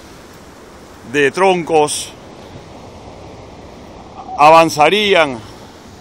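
Rough open-ocean sea around a log raft, a steady roar of waves and wind throughout, with someone speaking over it.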